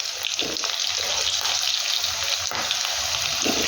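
Chili rolls drop into hot oil and fry with a loud, bubbling, continuous sizzle and hiss, close and steady, with no talking.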